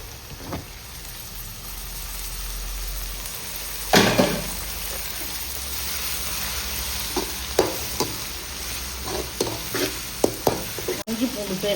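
Chopped onions and tomatoes frying and being stirred in a pan for masala crab fry, with a steady close sizzle and occasional sharp scraping strokes of a spoon, one louder burst about a third of the way in.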